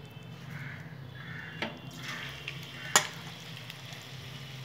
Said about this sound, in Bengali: এখন বড়ার আকারে আমি ভেজে নেবো ধনে পাতাগুলো।